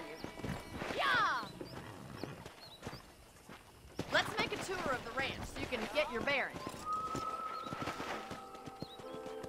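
Horse hooves clip-clop at a walking pace on a ranch in Red Dead Redemption, with a whinny near the start, while someone talks over the game's ambient sounds.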